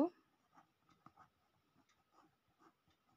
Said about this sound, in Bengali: উত্তর লিখব